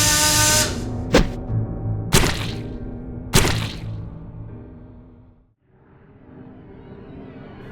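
Brutal killing with a power drill in the horror video game Death Mark: three sharp, loud impact bursts with swishing thuds over a low droning backdrop, then a brief drop to silence before a faint ambience returns.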